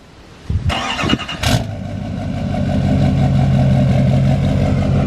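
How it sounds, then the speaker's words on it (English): A junkyard truck cold-starts on a freezing morning of about 40 degrees: the starter cranks in short bursts, the engine catches with a loud rise, then settles into a steady, rough idle that grows slightly louder. "let's get this truck started up, get a little cold start"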